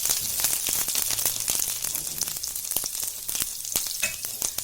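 Garlic with mustard seeds and cumin sizzles in hot oil with a dense, continuous crackle, popping seeds ticking sharply throughout, close and fairly loud.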